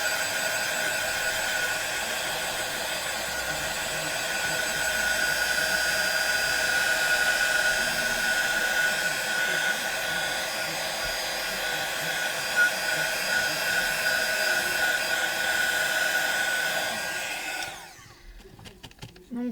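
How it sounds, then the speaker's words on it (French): A hair dryer blows steadily over a mixed media artwork with gesso and structure paste, a continuous loud whooshing hum that runs for about seventeen seconds before cutting off abruptly near the end. "Donc je viens sécher tout ça."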